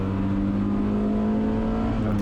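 A 1990 Mazda Miata K-swap race car accelerates hard on a road course during a race, its engine note loud and close, a steady sustained rising drone lasting a couple of seconds with no talk over it.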